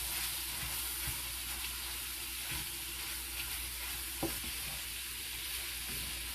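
Tennessee Pride sausage frying in a pan gives off a steady, close sizzle and hiss that runs unbroken, with a few faint pops and scrapes and no one talking.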